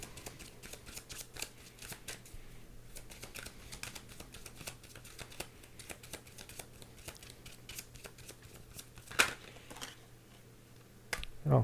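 Tarot cards are shuffled and drawn, making a quiet, continuous run of crisp flicks and riffles close by, with a few sharper snaps near the end and no voices.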